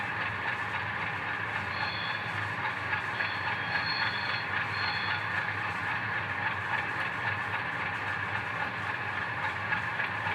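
Flange squeal effect from a model train sound unit in a Rapido CN Tempo set, a steady train-like rolling noise with faint high squealing tones coming and going, continuous at moderate volume.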